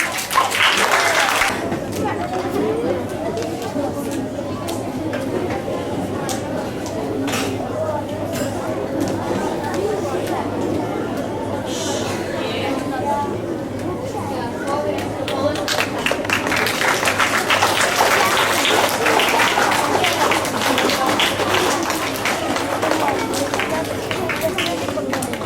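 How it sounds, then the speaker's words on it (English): Students applauding at a school assembly, with a short burst of clapping at the start, then a long stretch of hubbub and chatter, and a louder, sustained round of clapping in the later part. "Let's give him a big round of applause."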